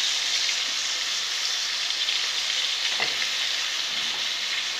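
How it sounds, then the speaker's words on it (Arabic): Chopped onion sizzling and frying in a pan while pizza roll filling is cooked, a steady close hiss of hot oil with a faint stir or clink midway. "دوكا نزيد البصل تاعي"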